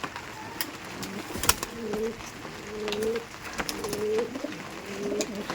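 Pakistani Chotiyal breed pigeons coo repeatedly inside their loft with the door open, low rolling calls recurring every second or so over a soft background hiss.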